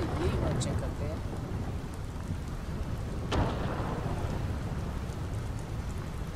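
Steady rain pours in a Fortnite game scene, a dense broadband hiss with a single sharp thunder crack partway through, continuous and fairly loud throughout.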